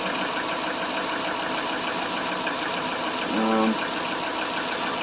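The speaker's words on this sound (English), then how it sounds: "I'm happy with the way the engine's running right now." A 2001 Subaru Legacy engine, recently fitted with a new upper hose after running rough and overheating, idles steadily close by with a constant mechanical hum and a brief rising tone near the end.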